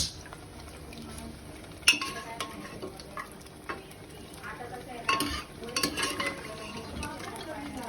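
Mutton stirred and frying in a pan for a mutton rassa curry: steady sizzle under scraping and clinking of a spoon against the pot, with a few louder metallic knocks, close and continuous, no talking.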